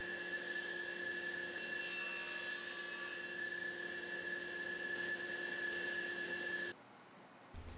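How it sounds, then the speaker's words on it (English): Maple wood splines being cut in a woodworking shop, a steady sustained rasping and sawing sound with a constant motor hum, loud and continuous for several seconds before stopping abruptly. "I cut the splines themselves out of maple"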